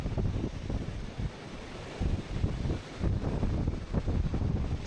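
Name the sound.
strong wind blowing into the microphone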